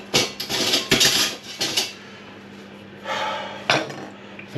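A knife and dishes handled in a home kitchen while a chicken and mushroom pie is made, giving brief bursts of clattering metal and crockery with short pauses between them.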